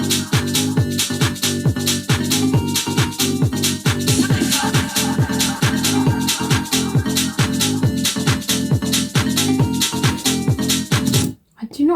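Chorus of an electronic track plays loud and continuous, with a vocal hook, bass, a percussion loop and a full drum pattern of rapid regular hits. It drops out abruptly near the end.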